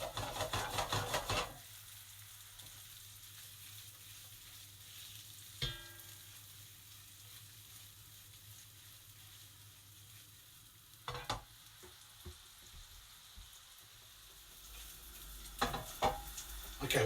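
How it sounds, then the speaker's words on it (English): Serbian cevapi sausages fry steadily in a pan, a constant close sizzle running throughout, with a few brief clatters from the pan or utensil at intervals and no talking. "They're going to take about 5-10 minutes tops to cook."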